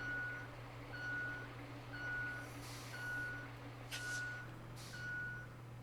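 Truck in the Roadcraft video game gives a steady reversing beep, six evenly spaced tones over a constant engine hum, with a couple of short hissing air-brake bursts near the end.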